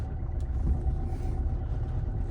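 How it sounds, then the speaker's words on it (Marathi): A car reverses slowly with a low, continuous engine rumble, steady and close with no other sounds standing out. "अशीच रिवर्स जाऊन देऊ"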